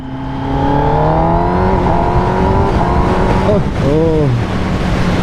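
A Kawasaki Ninja ZX10R sport motorcycle accelerating on a night ride, its engine note climbing steadily and loudly, easing briefly, then surging again, heard up close throughout.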